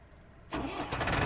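A vehicle engine in the farming game Ranch Simulator cranks and catches abruptly after a quiet start, then runs loud and close with a rough, steady rumble.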